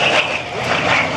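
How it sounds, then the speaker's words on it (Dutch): Propeller airplanes fly overhead at an airshow in Oostwold, a loud, continuous engine drone that swells slightly throughout with no talk. "Dit soort vliegtuigen, een geweldig spektakel."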